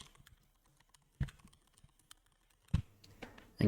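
A few sharp keystroke bursts from a computer keyboard as a website address is typed, sparse clicks separated by quiet gaps, close and fairly soft.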